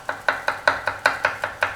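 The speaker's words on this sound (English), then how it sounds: "That is some chopping skills" A knife chops food on a board in quick, steady strokes, about nine crisp, close thuds in an even rhythm with no talking.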